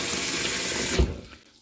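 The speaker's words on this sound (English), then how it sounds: "by rinsing and washing your grains off" Wheat, rye and oat grains rinsed under a running tap, a steady close hiss of flowing water that stops abruptly near the end, with no talking.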